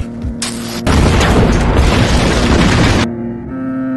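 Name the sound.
explosion in Rurouni Kenshin film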